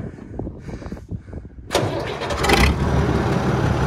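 A tractor engine fitted with a straight pipe exhaust cranks briefly, then fires up abruptly into a loud, raw, rumbling idle that holds steady close by.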